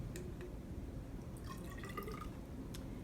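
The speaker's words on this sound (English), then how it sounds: "To use a graduated cylinder, pour in the liquid" Liquid poured into a graduated cylinder in a science classroom: faint dripping and trickling with a few soft glassy clinks over a low steady hum, quiet and close, no talking.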